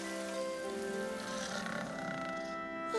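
Steady rain patters down on a surface, a continuous soft hiss that persists beneath a bed of sustained musical tones throughout.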